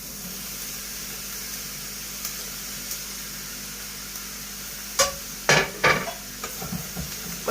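Chicken and onions fry in a pan with a steady, close sizzle, joined near the end by a few sharp utensil scrapes and clinks against the pan.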